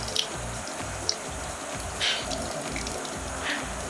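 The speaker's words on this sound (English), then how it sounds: "So you want to do this until that green running water starts running clear." Tap water runs steadily into a sink, rinsing a bundle of parsley, a soft continuous splashing hiss with a few faint drips and clinks, fairly quiet and without speech.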